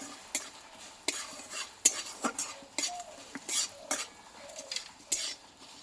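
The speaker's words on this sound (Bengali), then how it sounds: "মশলাটা আমি একটু ভালো করে ভেজে নেব" Ground spices frying in oil for a Bengali matar dal, heard as a series of sharp stirring scrapes and clinks of a spoon against the pan over a quiet sizzle, close by and without talk.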